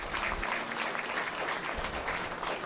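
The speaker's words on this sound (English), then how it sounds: "So let's give that a round of applause." An audience gives a round of applause as a panel of Mexican American Vietnam-era veterans takes its seats. The clapping stays full and steady throughout, with a faint murmur of voices in the room.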